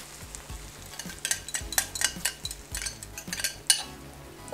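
Beaten egg hitting sautéed vegetables in a frying pan: a low sizzle under a run of scraping utensil clicks and taps against the pan, close and busy, with no talk.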